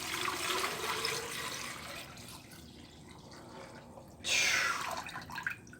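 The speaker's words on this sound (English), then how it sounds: "And now we're going to fill this with water." Water pouring into a glass snake specimen jar, a steady splashing fill that fades, then a louder gush near the end.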